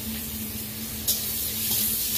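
Ginger garlic paste hitting frying onions in a pan with turmeric, a steady loud sizzle and hiss with a brief sharper burst as the paste lands, no voices.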